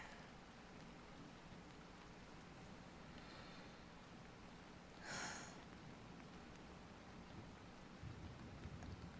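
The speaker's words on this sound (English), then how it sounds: "Kinda just want to listen to the rain" Faint, steady rainfall patters softly in the distance, with one brief louder swish near the middle.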